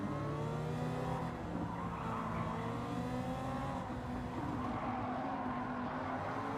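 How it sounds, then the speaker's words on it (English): Race car engines in Gran Turismo 7 drone steadily with shifting pitch and a tire-squeal edge, loud and continuous without a break, and no one talks over them. "Some of the cars sound really good, but I think most of them are just not quite there yet."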